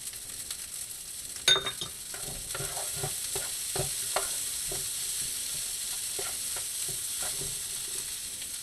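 Shrimp and pork stir-fry in a hot pan with a steady, bright sizzle, punctuated by repeated scrapes and knocks of a utensil stirring the food.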